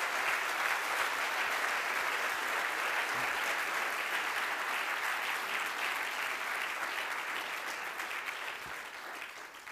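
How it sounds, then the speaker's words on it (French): A conference keynote audience applauds in a full, sustained round of dense clapping that holds steady, then slowly fades toward the end. "je vous encourage à leur lancer une bonne salle d'applaudissements pour le travail qu'ils ont fait"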